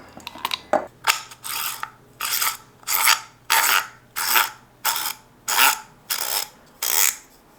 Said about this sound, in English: Will the cap screw on and actually work?